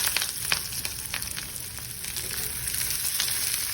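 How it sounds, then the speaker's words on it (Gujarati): Steady crackling sizzle of mustard seeds, cumin and asafoetida frying in hot oil, with sharp pops scattered throughout, close and fairly loud. "જીરું અને હિંગ નાખો અને સંભારીને વઘારી દો"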